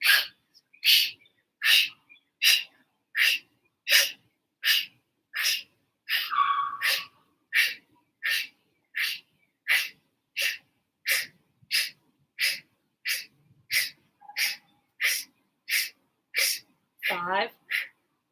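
Rapid exhalations in a group breathing exercise, about two dozen sharp, breathy puffs in a steady, even rhythm, close and fairly loud, with one brief vocal sound midway and a short breathy vocal sweep near the end.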